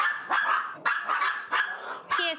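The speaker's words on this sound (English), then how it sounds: "the dogs predictably give it their barking best." Small dogs bark sharply and repeatedly nearby, four quick yappy bursts in a rough rhythm, loud against a quiet background.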